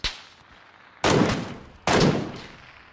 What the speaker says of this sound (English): Is that Fugler shooting?